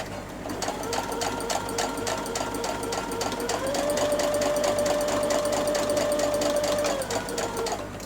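A sewing machine stitching fabric along a guide, a continuous close mechanical whir of fast, even needle strokes with a rising hum in the middle, running steadily throughout with no voices.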